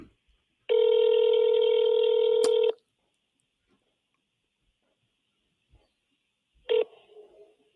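A telephone keypad tone sounds as one long steady beep of about two seconds, then after a pause a second short tone, close and clear in an otherwise quiet room, while a call to a police chief is placed.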